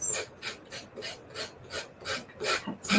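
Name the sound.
sanding a curve on a wooden mini cutting board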